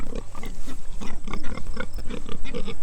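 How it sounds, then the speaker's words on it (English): Pigs on a homestead grunt and snort continuously at close range in a busy, overlapping stream of short oinks with no talking. "Alright, so these are my pigs."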